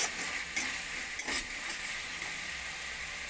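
A mix of spices is stir-fried in a pan, making a continuous soft sizzle and hiss with occasional brief scrapes from the stirring spoon.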